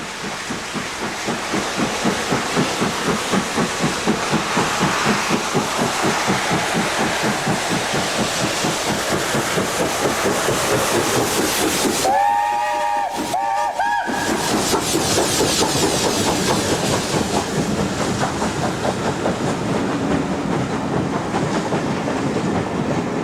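A British Rail Britannia class steam locomotive, number 70000 built in 1951, on a test run, with a loud steady rumble of wheels and rhythmic clickety-clack over rail joints throughout, briefly dipping in the middle.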